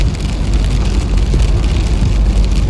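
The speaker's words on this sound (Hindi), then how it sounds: "अब बारिश हो रही है, सब जगह बारिश हो रही है।" Steady rain falls at night in Corbett with a dense, continuous hiss and a low rumble underneath, loud and close, with no voices.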